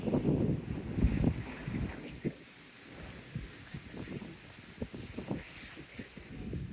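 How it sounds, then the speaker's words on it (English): Seaside breeze at Teignmouth beach buffets the microphone in low rumbling gusts, strongest at the start and then easing into a softer, uneven blustering with occasional thumps. "Still got our feet blowing in the breeze."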